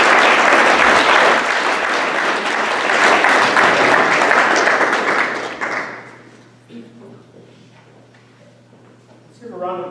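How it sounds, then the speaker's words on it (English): Applause from an audience at an eighth-grade graduation ceremony, loud and sustained for about six seconds, then fading out into a quiet room with a few scattered sounds and the start of a voice. "Let's give a round of applause for our graduating class of 2020."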